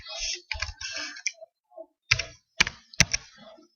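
Computer keyboard typing as a username is entered: a few quick clustered key clicks early, then three sharper separate strikes later, close and fairly quiet with no talk.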